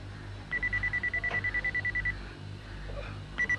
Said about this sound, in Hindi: ये बीप बीप क्या है? बीप बीप का मतलब है yes sir, he is ready to take the order.